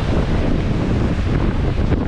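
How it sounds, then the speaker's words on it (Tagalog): Strong waves roll onto Boracay beach at low tide, a dense, continuous wash of surf mixed with heavy wind buffeting the microphone, loud and steady throughout. "Kaso ano, malakas yung alon."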